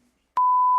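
A single steady censor beep covers a word shouted out at an awards ceremony; a short faint tone precedes a brief gap, then the loud pure tone starts abruptly and holds.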